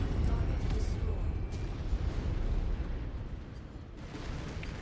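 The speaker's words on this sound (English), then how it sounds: "I hate orbital bombardment." Orbital bombardment explosions in the mech combat game MechWarrior 5, a dense, continuous low rumble of blasts and booms with a few sharper bursts, loud and sustained throughout.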